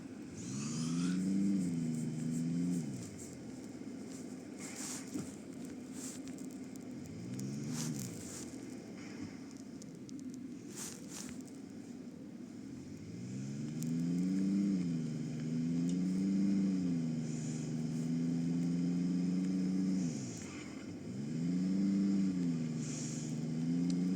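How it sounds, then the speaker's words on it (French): Police car in a video game speeding along, its engine whining up and down in repeated revving sweeps, loud and continuous, with faint game clatter and brief sharp hits above. "Ah mais ils vont vite aussi avec leur voiture là."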